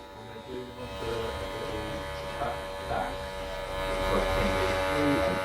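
Electric hair clippers fitted with a number 1 guard buzz steadily through a buzz cut fade at a barbershop, a continuous close hum that rises slightly toward the end, with faint talk underneath.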